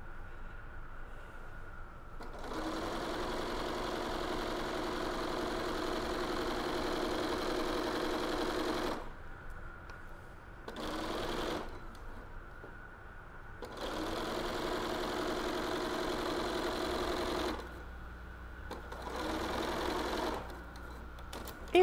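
A sewing machine stitches a seam on a cotton pillowcase in several long runs of steady, close mechanical whirring, separated by short pauses of near silence.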